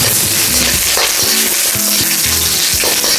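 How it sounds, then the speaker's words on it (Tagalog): Garlic sautés in hot cooking oil for pork Mongolian-style noodles, giving a steady, fairly loud sizzle that runs throughout with soft background music underneath. "Siyempre, magigisa na tayo ng bawang."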